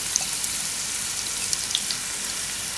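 Chopped onion added to hot oil for mutton biryani, giving a steady, close hiss of frying with faint watery crackles and small pops throughout, no voices.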